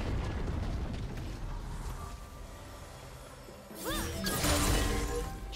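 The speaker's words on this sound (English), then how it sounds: "His turret has been destroyed." A turret being destroyed in the video game League of Legends, heard as a loud crashing burst with rising whooshing tones, arriving after a few seconds of busy, steady game sound.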